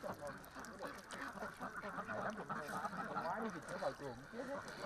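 A flock of white ducks swim on a fish pond, quacking and honking in a continuous, fairly faint chorus.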